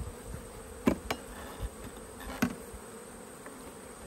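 Honey bees at an open orange hive holding an Australian queen hum in a steady, faint drone, broken by a few sharp knocks close by.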